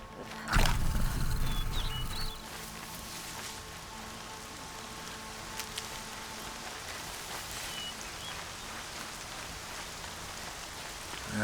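Rain in a prehistoric survival game with lions, sabretooth tigers and bears, a loud burst of drops and splashes at the start that settles into a steady, moderate hiss of falling rain, with no speech.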